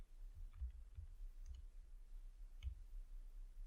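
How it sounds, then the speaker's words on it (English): A few sparse, soft key clicks from typing on a keyboard in a code editor, spaced irregularly and quiet against a low background hum, with no talking. "I'm going to type alert."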